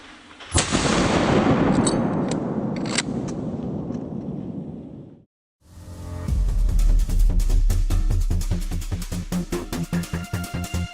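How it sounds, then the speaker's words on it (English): A single loud gunshot fired at a large wild boar during a hunt near farmland rings out with a long decaying echo, followed after a pause by a rapid series of sharp repeated bangs. "As soon as it appeared, I pulled the trigger without hesitation. One powerful shot dropped the boar instantly."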